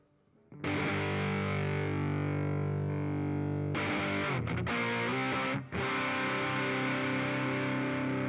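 Distorted electric guitar played through a Headrush amp modeler, loud and sustained with thick driven chords, brief stops and restarts near the middle, no talking.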